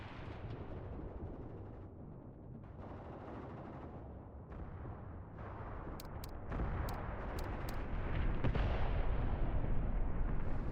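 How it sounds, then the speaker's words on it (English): Artillery explosions in the WW2 video game Mius Front: dull, rumbling booms roll in through a low constant din, growing heavier and denser toward the end, with a few sharp clicks breaking in partway through. "Heavy explosions heard from here, probably our own fire mission."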